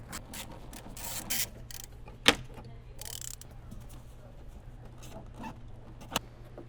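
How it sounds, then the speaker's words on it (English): An 8mm wrench ratchets and clicks while bolts are removed from the side of a Tesla Roadster 2.x PEM, giving faint, intermittent metallic clicks and taps with a couple of sharper knocks over a low steady hum. "we're going to remove these 3 bolts on the side of the PEM over here"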